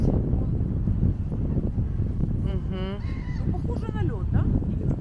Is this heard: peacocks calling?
yes